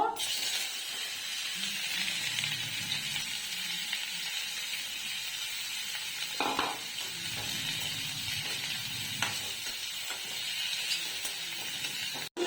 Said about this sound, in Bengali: এবার এঁচোড়গুলো একটু ভেজে নেব